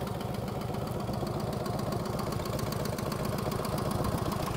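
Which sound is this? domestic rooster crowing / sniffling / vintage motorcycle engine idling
vintage motorcycle engine idling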